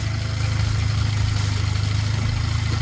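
A 2000 Toyota Celica GTS engine, freshly tuned up, idles steadily with a smooth, even low rumble and a faint rhythmic pulse, running alone without voices.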